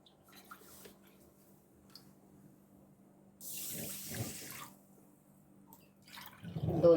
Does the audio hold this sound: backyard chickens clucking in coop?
no